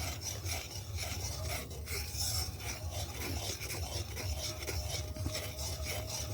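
Ghee being stirred in a pan as it cooks, a steady scraping, rasping rub of the spoon against the pan bottom over a low sizzle, continuous and close throughout with no talk.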